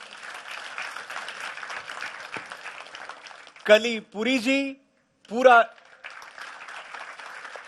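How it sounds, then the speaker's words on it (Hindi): Moderate audience applause at a televised Hindi poetry event, heard before and after a short burst of a man's speech, fairly far off and even in texture. "उनके लिए तालियां बजनी चाहिए"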